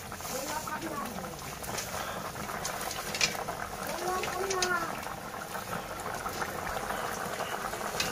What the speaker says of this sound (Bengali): ঝোলটাকে মাছের সাথে ভালো করে ফুটিয়ে নেওয়া হচ্ছে দেখতেই পাচ্ছেন বন্ধুরা